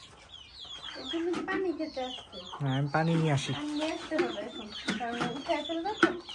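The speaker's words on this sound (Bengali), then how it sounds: "আর এটা হচ্ছে গলা ছোলা মুরগি এটাকে বলে গিন্নি মুরগি" Naked-neck hens on a farm cluck and squawk near the microphone in irregular bursts, while a person speaks briefly among them.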